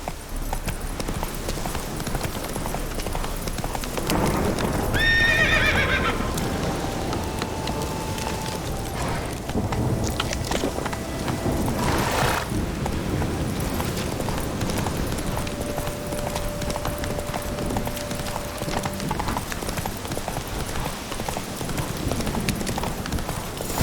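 Roach the horse gallops in The Witcher 3: Hearts of Stone, a steady run of hoofbeats beneath continuous game ambience and music, with no speech.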